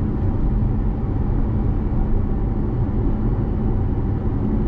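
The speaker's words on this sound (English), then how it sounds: "There's road noise, because you know, there are great big tires on this thing." Inside a Mercedes-Benz SLS AMG on big tires at about 60 mph on a bumpy road, a dense, steady low roar of road and tire noise filling the cabin without a break.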